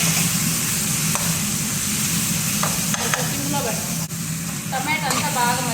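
Tomatoes sizzle in a hot pan while cooking down for a vermicelli chicken biryani, a constant fry hiss broken by occasional scraping stirs and clinks of a spoon.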